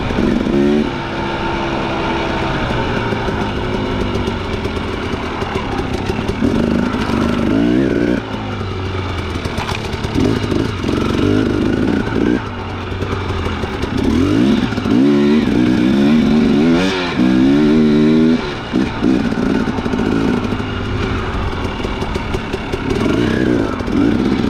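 A 2017 Husqvarna TX300 two-stroke dirt bike engine roars loud and close while riding, its pitch rising and falling through repeated revs and gear changes, with clattering from the rough ride.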